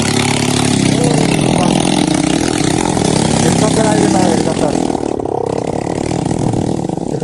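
A modified Honda Dio scooter runs without a silencer, its engine droning loud and close with a rough, constant exhaust note that shifts in pitch partway through, with people talking over it.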